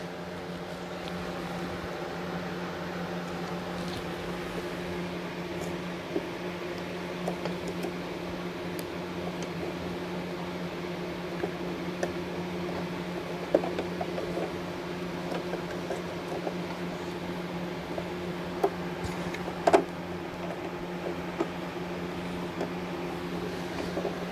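A Brother SE1900 embroidery machine stitches a hat with a steady, quiet mechanical hum and faint rapid ticking throughout, with a few sharper clicks.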